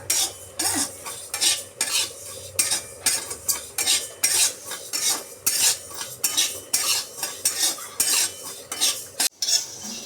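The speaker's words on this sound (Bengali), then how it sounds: "ভেজে ভালো করে ভেজে নিচ্ছি।" Spices for mango pickle fry in a pan with brisk, rhythmic stirring, a metal spoon scraping and clinking against the pan in repeated strokes over a light sizzle, close and fairly loud with no voices.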